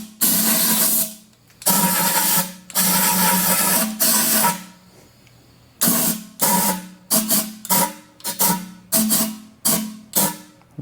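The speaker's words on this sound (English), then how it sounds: "Let's take the air hose and let's blow that." Compressed-air hose blasting dirt off a part during a shop rebuild of a 455 engine. Loud, close hissing comes first in long sustained bursts, then in a quick string of short, sharp puffs.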